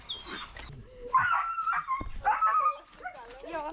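A dog whimpers, yips and barks at a Bulgarian dog shelter, with short bursts of high whining and a few sharp barks close by, mixed with people talking.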